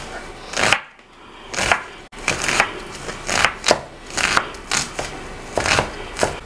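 A knife chops onion into small dice on a board: sharp, close knocks repeat in an irregular but steady rhythm, about ten strikes with short pauses between them and no voices.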